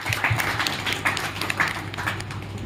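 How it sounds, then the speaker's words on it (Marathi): An audience at a book festival interview claps for a poet in a brief, moderately loud round of applause with audible individual claps, fairly steady across under three seconds. "त्यांच्यासाठी जोरदार टाळ्या झाल्या पाहिजे"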